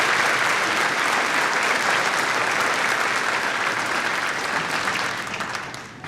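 Sustained audience applause for graduating seniors at a school graduation ceremony, dense and loud clapping from a large crowd that fades slightly toward the end.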